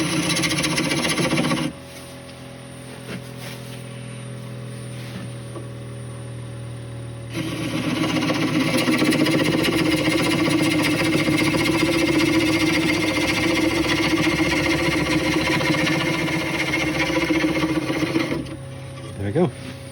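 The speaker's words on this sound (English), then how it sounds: "I'll go and sharpen the parting tool first." A parting tool is sharpened on a powered grinder in a woodturning workshop. A motor hum gives way to a loud, sustained grinding rasp that runs for about eleven seconds before easing off.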